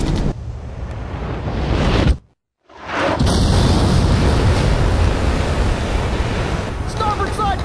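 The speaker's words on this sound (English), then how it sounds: "We've been hit by 2 sub-launch missiles." Missiles strike a warship in Ace Combat 5, a loud sustained roar of blast and rushing water noise that cuts to silence briefly, then resumes as a heavy continuous rumble with faint radio chatter.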